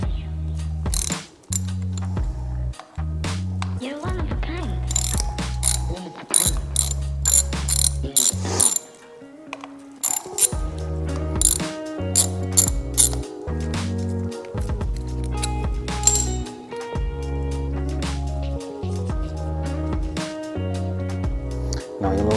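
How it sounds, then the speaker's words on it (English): Ratchet wrench with a quarter-inch Allen socket loosening the oil filler cap on a Harley-Davidson Sportster Evo, clicking in repeated rapid bursts with short pauses, loud and close throughout. "you're going to remove the filler cap, all right? You've got your quarter Allen socket, wrench, key, whatever you want to use."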